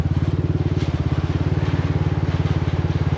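Motorcycle engine on a mountain trail ride, a steady loud throbbing idle-like putter with a fast even pulse and a deep low rumble, continuous throughout with no talk.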